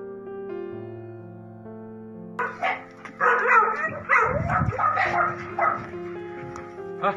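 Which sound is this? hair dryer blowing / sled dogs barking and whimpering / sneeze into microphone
sled dogs barking and whimpering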